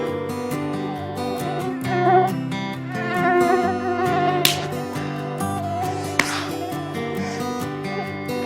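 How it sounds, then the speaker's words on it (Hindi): Mosquitoes buzz in a Granny horror-game short film, a thin whine layered over a steady tonal music-like background, with two brief sharp clicks standing out. "अरे कितने मच्छर हैं यहाँ"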